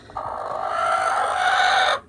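A two-year-old New Hampshire Red hen sitting on a fake egg in a nesting box makes a single drawn-out, nasal vocal call about two seconds long, close and loud, with no talking.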